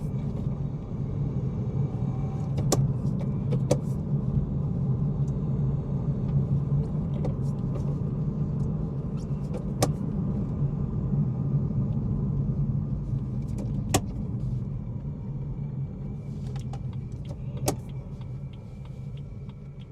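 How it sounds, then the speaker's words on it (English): A manual BMW M240i sits with its engine idling in a low, steady rumble while sharp mechanical clicks and clunks from the gear lever and linkage come every few seconds as it is shifted through the gears. No one speaks. "I'm going to go through the gears a little bit here, just for you guys to hear the mechanical noises"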